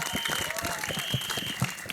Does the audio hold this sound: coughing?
no